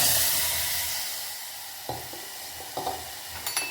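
Tomato pulp added to a hot pan while cooking rasam, a bright steady sizzle that starts loud and slowly fades, with a few soft stirring knocks near the end.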